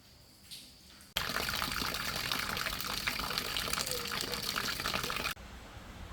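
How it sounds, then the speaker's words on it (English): Rainwater pours and drips into a house through leaks during a storm, a loud continuous rush of falling water lasting several seconds. Quieter room sound comes just before and after. "There are also many smaller leaks dripping all over the house."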